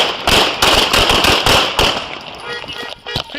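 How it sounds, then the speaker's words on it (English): A rapid volley of police gunfire in a street pursuit, many loud sharp cracks in quick succession at first, then thinning into sporadic shots as shouting voices take over. "54 shots fired!"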